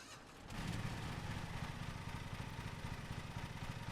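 A riding lawn mower engine in Lawn Mowing Simulator turns over after a brief quiet moment, then settles into a steady, rumbling idle that carries on alone.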